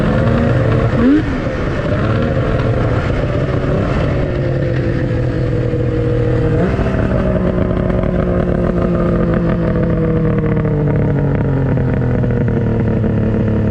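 A Yamaha SX 700 triple snowmobile engine runs at a steady, strong idle, a loud, close droning hum with a slight pitch shift early on and then a constant note throughout.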